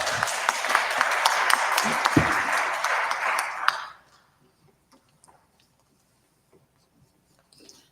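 An audience applauds at a community men's health clinic panel, a dense burst of clapping lasting about four seconds before cutting off into near silence.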